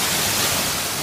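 Mala Noche waterfall in the jungle, a dense, continuous roar of falling water, loud and close, with no breaks and no voices over it.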